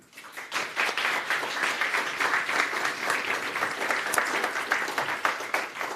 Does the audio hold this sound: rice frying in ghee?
no